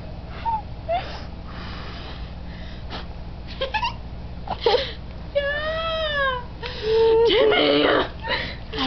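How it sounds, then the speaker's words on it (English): A flea-ridden house cat gives several drawn-out, wavering meows close by, mixed with a person's speech and background noise, the clearest cries coming in the latter half. "I love this kitty cat."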